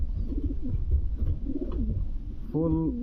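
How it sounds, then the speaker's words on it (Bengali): Low, throaty pigeon cooing repeats in rolling phrases close by, over a constant background rumble, ending with a sustained warbling coo. "জীবনে তো অনেক কবুতর দেখেছেন, আজ যে কবুতরটি দেখাবো আশা করি সবারই পছন্দ হবে।"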